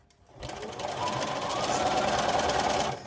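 A sewing machine stitches the seam of a fabric face mask, starting up with a rising whir into a steady, rapid mechanical chatter, then stopping, close and loud.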